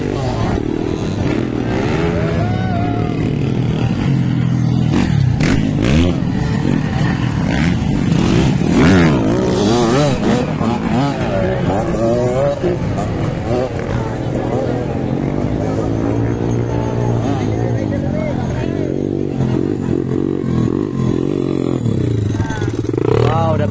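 Motocross motorcycles race in a ladies final at Barangay Basecamp, Maramag, Bukidnon, engines revving and droning loudly throughout, rising and falling in pitch, with crowd noise and commentary-like voices mixed in.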